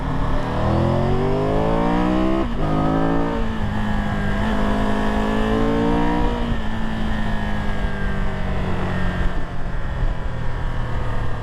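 A 2022 Triumph Tiger 1200 Rally Pro motorcycle accelerating hard through several gears, engine pitch climbing in repeated rising sweeps with a shift break, then settling into a loud sustained drone with heavy wind noise, close and dominant.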